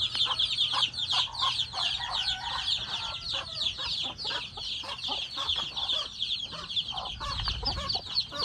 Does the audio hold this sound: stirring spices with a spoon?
no